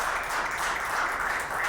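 A small podcast studio audience claps to thank a congresswoman guest, a brief dense patter of hands, steady and close, with no voices.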